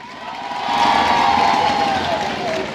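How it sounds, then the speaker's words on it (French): A rally crowd in Labé, Guinea cheers and claps at a constitution presentation, with whoops and shouting that build and stay loud, and a high voice rings over the noise. "Applaudissez la jeunesse."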